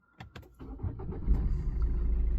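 A Maruti Breeza ZDI Plus automatic diesel fires up from its push-button start: a few short clicks, then the engine catches and settles into a steady, close diesel idle.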